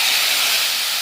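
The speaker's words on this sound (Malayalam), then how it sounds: "കടുക് വറുത്തത് നമുക്ക് ആഡ് ചെയ്യാം." Fried mustard seed tempering poured into a green gram lentil curry gives off a loud, steady sizzling hiss close by that fades slightly as it settles.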